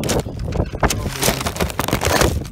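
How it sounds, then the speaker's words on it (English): Gusty wind buffets the microphone outdoors on a city street, a loud, continuous rumbling roar that swells and dips for the whole stretch with no clear speech over it. "Wind's freaking killing me."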